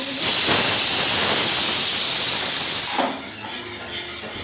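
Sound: pressure cooker releasing steam while cooking potatoes

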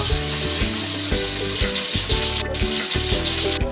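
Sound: frying katla fish roe with potato in a pan

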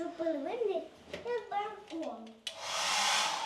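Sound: hotel room hair dryer running

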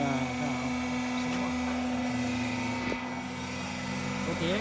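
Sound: hydraulic pump station running on concrete block machine

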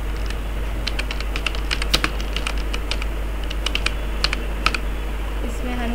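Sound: typing headline text on a keyboard in Canva

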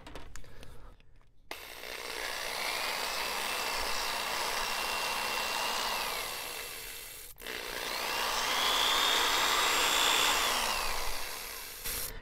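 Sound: power drill drilling for RC plane control rod tubing

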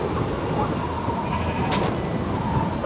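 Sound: sheep bleating in the video game Minecraft

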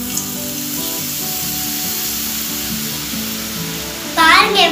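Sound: boondi batter frying in hot oil

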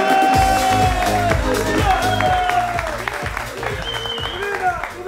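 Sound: studio audience applause

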